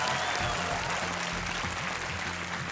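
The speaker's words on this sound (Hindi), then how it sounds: "तालियां जरा जोर से बजनी चाहिए।" Steady applause from a television quiz show studio audience, a continuous even wash of clapping with no pause, fairly close and filling the whole stretch.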